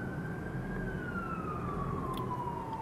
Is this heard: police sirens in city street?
yes